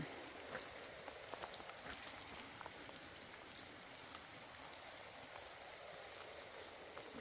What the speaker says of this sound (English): Hopefully it'll stop raining in the night.